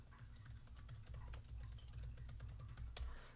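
Rapid typing on a computer keyboard, a quiet, close patter of irregular key clicks continuing throughout, with no speech.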